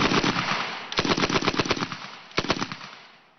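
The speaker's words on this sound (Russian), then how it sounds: "Не оставив шансов всем остальным претендентам, чешский пулемет ZB занял пальму первенства." A Czech ZB light machine gun fires in loud, close bursts: a long continuous stretch, then a rapid run of distinct shots, then a brief final burst that fades out.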